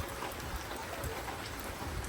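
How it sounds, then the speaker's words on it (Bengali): Heavy rain falls steadily in a village, a dense, even wash of drops pattering on surfaces with no voices. "আজকে আমাদের গ্রামে অনেক বৃষ্টি হইতেছে"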